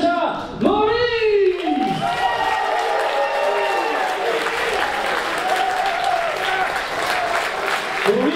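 Crowd at a wrestling event in Eutin breaks into sustained loud applause with cheering and whoops, steady clapping filling the hall while an announcer's voice carries over it on the PA.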